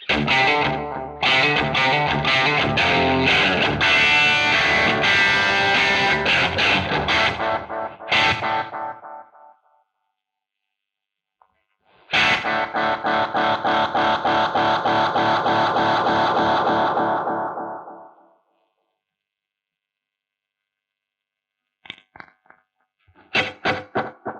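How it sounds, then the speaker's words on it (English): A Behringer VD400 vintage analog delay pedal set to maximum delay length, with loud guitar notes trailing into long repeating echoes that die away, then a quieter stretch before faint plucks return near the end. "So there's your maximum delay length."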